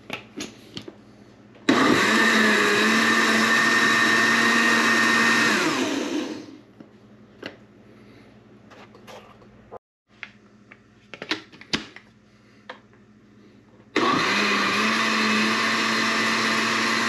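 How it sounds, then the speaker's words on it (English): A blender whirs loudly, blending whole peeled San Marzano plum tomatoes. The motor roars in two long bursts, with quieter clinks and handling noises between them. "We're gonna put them in the blender and go ahead and blend them up to a consistency that we like."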